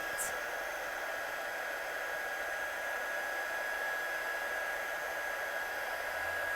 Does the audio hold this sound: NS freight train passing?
no